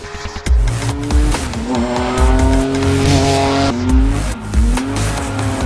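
Renault Twin'Run concept hot hatch with a 3.5 litre V6 of about 350 horsepower, driven hard: loud, close engine roar rising and falling through revs, with tire squeal and skidding throughout and no talk.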